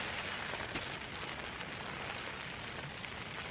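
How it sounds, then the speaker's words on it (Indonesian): Light drizzle falls outside at night on a mountain, making a steady, even hiss of fine rain on surfaces, fairly faint and continuous with no talk. "di luar gerimis ya nih"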